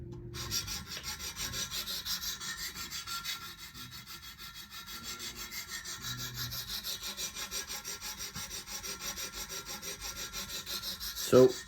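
A knife blade, an Emerson Super Commander, worked by hand across a 200 grit stone, making steady back-and-forth scraping strokes in an even rhythm, close and fairly loud, ending in a sharper knock.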